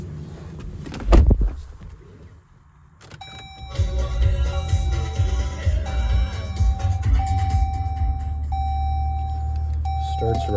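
A 2023 Jeep Wagoneer Series III engine cranks and catches, then settles into a steady low idle. Thin electronic dashboard chimes ring over it, and a brief clunk comes earlier.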